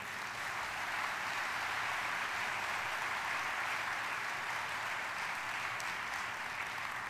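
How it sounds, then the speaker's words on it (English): A large audience at a presidential address and opening session applauds a committee, producing a dense, steady roar of clapping that holds evenly throughout without letting up. "Will you please join me in a round of applause for Drs. Harrington, Block, and their entire committee."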